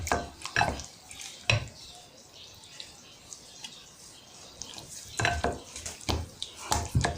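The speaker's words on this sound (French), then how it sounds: "de la poudre de gombo que je vais verser dans la sauce que j'ai retirée. Et je vais délayer." Okra powder being stirred into a sauce to dissolve it, a handful of close spoon knocks and scrapes against the pot in two bursts, with quieter wet stirring between them and no talk.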